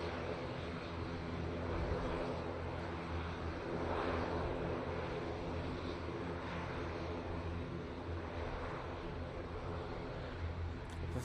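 An Emirates airliner departing Manchester Airport, a distant, sustained low rumble of jet engines holding steady through a long takeoff and climb, faint and continuous with no talk.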